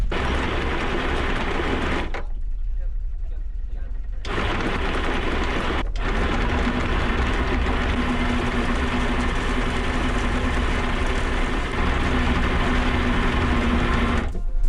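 A boat's anchor windlass motor runs steadily while hauling up about 45 to 50 metres of chain, a loud continuous mechanical drone that breaks off briefly for a couple of seconds and then resumes.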